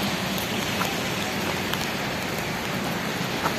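Steady rain falls outdoors on Yeouido Island during cherry blossom season, a constant dense hiss of drops with occasional louder nearby splats and no talk over it.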